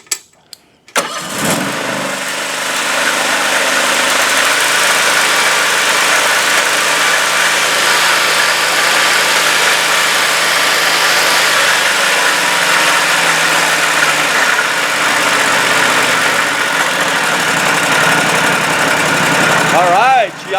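A repowered Exmark Turf Rider mower engine cranks and catches after priming and a little choke, then settles into a steady, loud idle that runs unbroken for about twenty seconds.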